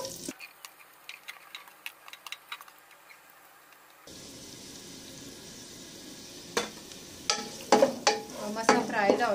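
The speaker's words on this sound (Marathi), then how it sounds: "मागीर कांदो घालता बारीक चिरलेलो" Finely chopped onion dropped into hot oil and stirred, with ticking taps at first, then a steady sizzle that turns louder with sharp spatula scrapes toward the end.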